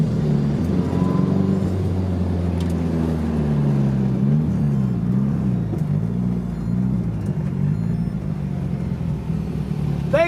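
Nissan S13 drift car at TMS, engine held high and wavering as it revs through a drift, a loud continuous roar close by with tire noise mixed in.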